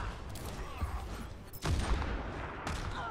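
Gunshots in the Overwatch 2 shooter during an Olympus event match, scattered cracks over a busy game mix with one sharp loud shot partway through.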